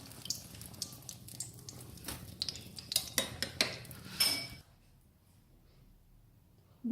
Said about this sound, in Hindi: मैं आपको डिश आउट करके दिखाती हूँ